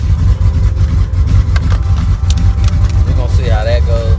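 Chrysler 300C engine held under steady throttle, a loud continuous low rumble filling the clip, with a brief rising whine near the end.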